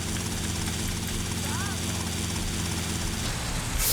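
Helicopter in the Vice City-style GTA Tightened Vice mod, a steady loud rotor and engine drone running throughout, with a brief tonal chirp partway and a burst of noise at the end.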